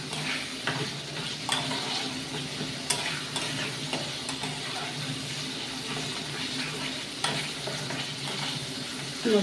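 Spice masala frying in plenty of hot oil with a splash of water, giving a steady close sizzle with scattered bursts of crackle and occasional scraping stirs.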